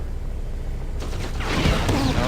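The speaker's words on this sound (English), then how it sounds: "Those turrets hurt." Turret gunfire in System Shock 2 breaks out about midway through, a rapid, loud burst of mechanical shots with a metallic edge, following a quieter stretch of room tone.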